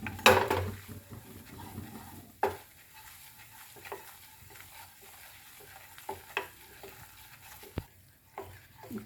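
Gram flour (besan) roasting and being stirred in a pan on a gas stove for curd halwa, with a soft steady sizzle broken by sharp scrapes and clinks of a spoon against the pan.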